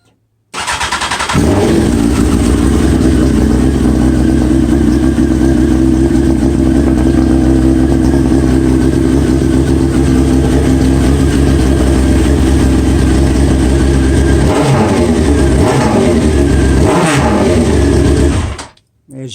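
A 2001 Honda 929RR motorcycle with a spark plug problem starts up and runs loud and close at a steady, even idle. Toward the end come a few sharp throttle blips, then the engine cuts off.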